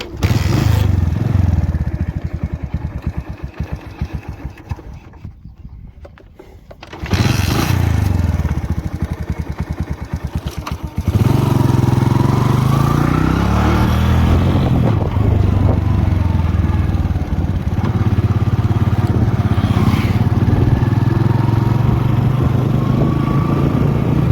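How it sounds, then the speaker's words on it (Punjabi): A tractor engine arriving in a farm field being prepared for paddy planting, a loud, continuous diesel rumble that dips briefly, then settles into a steady close idle chug. "ਟਰੈਕਟਰ ਆ ਗਿਆ ਆਪਣਾ ਖੇਤ ਦੇ ਵਿੱਚ"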